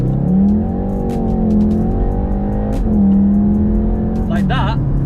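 Synthetic engine note of a VW Golf R piped through the cabin speakers, a loud, close, steady growl that rises and falls with throttle blips, with a person talking briefly near the end.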